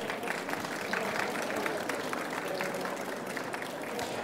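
Audience applause at the close of a conference talk on reducing one's carbon footprint, a steady moderate clapping from a crowd that continues evenly without pause.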